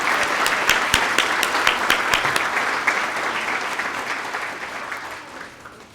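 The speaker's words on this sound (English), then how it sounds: "Let's have a round of applause for them and their amazing job they did" A town hall audience at a State of the Town address claps for the luncheon team, a full round of dense applause that starts strong and slowly fades toward the end.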